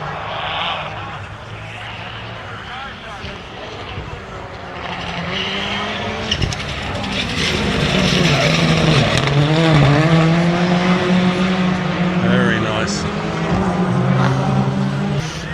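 A Ford Escort rallycross car from the historic golden era drifts at Lydden Hill, its engine roaring and rising as the tires squeal in long wavering howls, loud and close, building toward the end.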